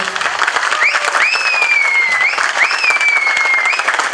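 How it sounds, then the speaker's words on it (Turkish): A crowd claps loudly at the opening of the Memleket Partisi provincial office in Sakarya, a dense steady burst of applause with a sustained whistle-like tone rising and gliding over it. "kocaman bir alkış alalım"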